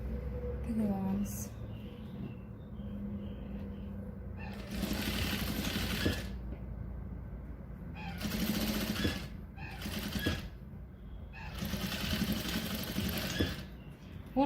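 A sewing machine stitches a patchwork bag in several bursts of whirring, with pauses between runs and quiet background noise.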